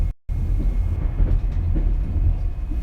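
Passenger train bound for Tokyo rolling along the rails, a steady low rumble with faint rhythmic clatter filling the whole stretch after a brief dropout near the start, no voices.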